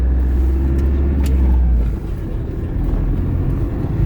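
Steady, loud low rumble of a marshrutka minibus engine and road noise heard from inside the moving vehicle, continuous throughout with a slight drop midway and no talking.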